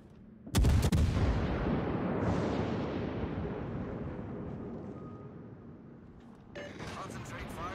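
Warship main guns fire in World of Warships aboard a British Leander cruiser, one huge booming salvo followed by a long rolling rumble that slowly fades, with a voice speaking over it.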